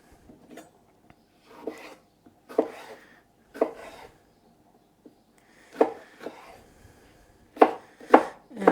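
A knife chops salad vegetables into small cubes on a cutting board, with quiet gaps between short bursts of crisp, close thuds that quicken into rapid cuts near the end.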